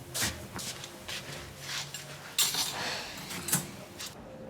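Cutlery being handled in a kitchen: light metallic clinks and rattles of silverware and dishes come in repeated short bursts, close but fairly quiet, with no talking.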